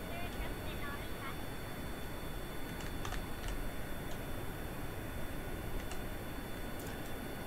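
A propeller airplane flies low over an island airport in Kerbal Space Program, a steady broadband engine roar holding at an even level throughout, with faint ticking and a high tonal whine riding on top.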